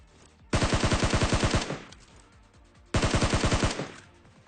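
Two bursts of rapid tap-fired gunshots from a video game, each about a second long and evenly rhythmic, loud and close, separated by a short pause with a fading tail.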